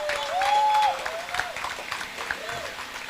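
Applause at an outdoor political pop-up meeting in Golden Acre, St. Stephen's Hill, welcoming a speaker. A steady crowd wash runs throughout, with a whistling tone and faint voices over it.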